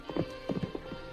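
Horse hooves clop as a sound effect in an old-time western radio drama, horses ridden through pine woods at sunset and reined to a stop. A short run of loose, uneven hoof beats in small clusters, fairly close and moderately loud, with no talking.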